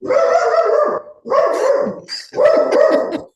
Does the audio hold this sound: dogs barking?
yes